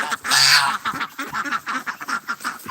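Geese near a snowy pond honk and call, one loud close honk followed by a run of quieter, irregular calls with scattered background noise.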